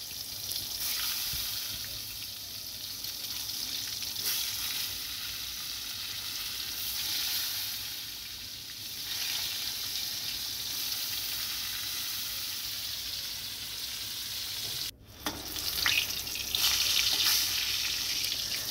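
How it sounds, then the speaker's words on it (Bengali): Brinjal (eggplant) slices frying in hot white oil in a kadai, a steady loud sizzle that runs on alone with a brief break, then resumes brighter as more slices go in. "এবার একে একে বেগুনগুলো দিয়ে দেবো।"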